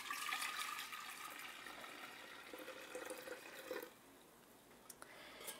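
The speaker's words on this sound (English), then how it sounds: "take another 2 quarts of purified water and add that to your fermenting jar" Purified water poured into a kombucha fermenting jar, a steady broadband pour that runs for about four seconds, then thins to a quieter trickle with a few faint drips. Close and alone, with no talking.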